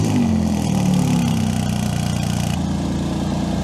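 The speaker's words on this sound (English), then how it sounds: "let's get a good cold start on this thing" A Porsche engine just after a cold start idles loudly and close, a steady, throbbing rumble with a slight shift in pitch partway through as the idle settles.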